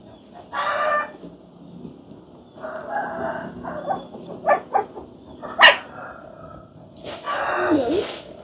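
Two dogs whimpering and barking in a rural Vietnamese home setting, a series of short yelps and barks, some sharp and close, scattered across the clip among household background noise.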